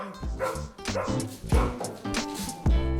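Dogs at a clown tricks class bark in quick, loud, close yips and woofs, several sharp barks overlapping in an irregular run, with faint background voices.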